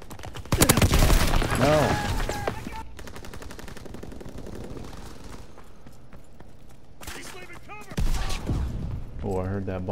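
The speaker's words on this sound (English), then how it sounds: "Oh, I heard that bomb explode." Rapid bursts of machine-gun fire and heavy blasts from a World War II shooter game, Call of Duty WW2, loud and dense at first and then thinning, with players talking over the action.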